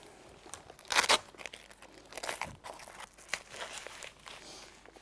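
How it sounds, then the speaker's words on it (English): Gelert Horizon tent fabric being pulled out and pegged down, giving close, quiet rustling and crinkling with a few sharper crackles and no voices. "When you've pulled the tent out, secure the other end with pegs."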